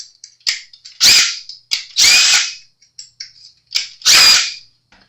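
Power drill boring a screw hole for a bass guitar neck: three bursts of whirring high-pitched drilling, each preceded by short ratcheting clicks, separated by silent pauses.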